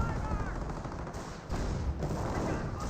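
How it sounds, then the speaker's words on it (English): An Ostwind anti-aircraft tank in Company of Heroes fires rapid, loud bursts amid a dense battle, with steady automatic gunfire and explosions layered throughout the short stretch. "Ostwind firing away"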